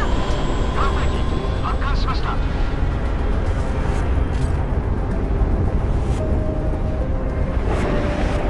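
An F-35 fighter jet launches from a warship's electromagnetic catapult in the naval combat game Modern Warships, a loud, sustained roaring jet rush with faint game tones and alert beeps layered over it.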